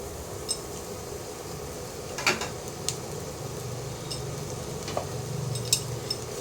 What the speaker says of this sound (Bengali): প্রথমে তেলটা গরম হয়ে এসছে, প্রথমে পেঁয়াজ কুচি দিয়ে দিলাম।